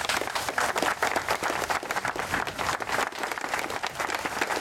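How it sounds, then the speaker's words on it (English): An audience gives a big round of applause at a gathering, with steady, dense clapping that stays loud and continuous from start to finish, with no talk over it. "I'd like to give him a big round of applause."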